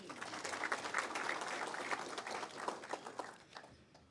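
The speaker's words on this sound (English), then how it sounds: "can we give him a round of applause?" Steady applause from an audience, dense clapping that holds for several seconds before tapering off toward the end.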